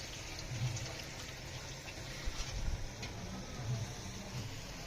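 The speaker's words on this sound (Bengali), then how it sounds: "এবার আমি গরম জলটা এই গামলায় ঢেলে নেব।" Hot water pours into a bowl as a steady, moderately quiet splashing stream with a low gurgling undertone, holding continuously throughout with no talking.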